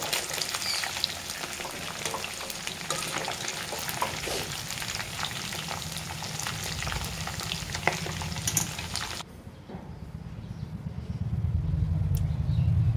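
Chicken pieces fry in oil in a wok with a loud, dense sizzle and crackle for most of the stretch. It cuts off abruptly to a quieter low rumble, then the sizzle swells again near the end, with no voices.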